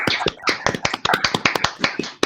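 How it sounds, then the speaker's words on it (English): Scattered claps from several people unmuted on an online video call, uneven and overlapping, with sharp separate hits close to the microphone and gaps of silence between them. "So everyone, please unmute and clap for Taylor."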